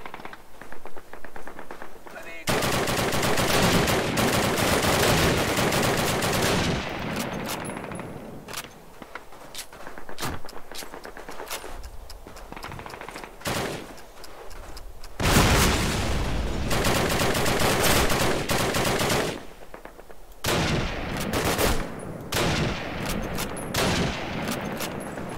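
Dense Call of Duty combat in a World War II mission: sustained rapid gunfire and booming explosions roar almost continuously at high volume, with brief lulls, while excited voices speak over the battle.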